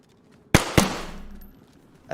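Two sharp gunshots ring out close together in the DayZ survival game, followed by a decaying echo and a faint third report near the end.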